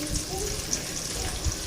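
Chicken biryani ingredients sizzle steadily in hot oil in a pot, a soft continuous crackle that stays fairly quiet and even throughout.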